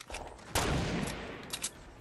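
Gunfire in a battle-royale style shooter video game, a burst of rapid shots erupting mid-clip and sustained over loud action, with a couple more sharp cracks near the end.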